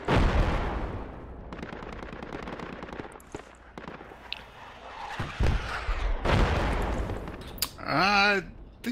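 Grenade explosions and bursts of gunfire in a first-person military shooter video game, loud and close, with a dense run of shots and blasts and a final burst of rapid automatic fire.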